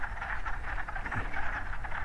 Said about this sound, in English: I am just surrounded by wood frogs